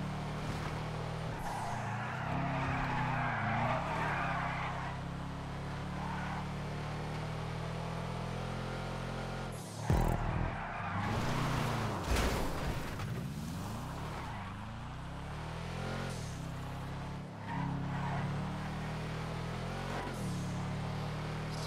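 Karin Boor in GTA 5 Online driving off-road on a dirt track, a steady engine drone with sustained revs, brief tire skids and bumps around the midpoint and again later, with no talking.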